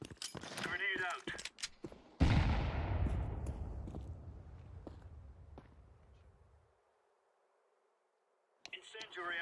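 Grenade thrown and exploding in the video game Counter-Strike 2: a single loud close blast that decays into a long rumbling tail before dropping to silence, with brief clicks and talking before and after.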